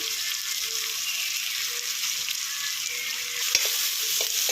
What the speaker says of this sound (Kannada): ಎಲ್ಲ ಹಾಕಿ ಫ್ರೈ ಮಾಡ್ಕೊಳ್ಳೋಣ.